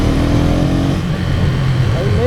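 A KTM Duke 250 motorcycle engine pulling in third gear, a close low droning hum that carries through the whole moment while a rider talks over it.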